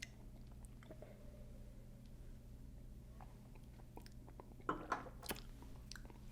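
Sweet chili heat Doritos tortilla chips being chewed, with soft close crunches scattered across the quiet stretch and a few louder bites near the end.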